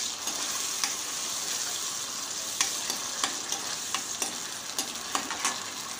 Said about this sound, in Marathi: आता हे जे वाटण आहे आपण मिक्सरमध्ये बारीक केलेलं ते यामध्ये टाकायचं आहे। छान परतून घ्यायचं आहे